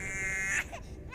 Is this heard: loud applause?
no